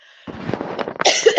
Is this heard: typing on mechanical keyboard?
no